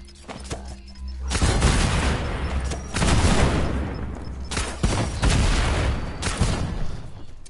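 Turrets fire in a video game in repeated dense bursts of loud, crackling shots separated by brief pauses.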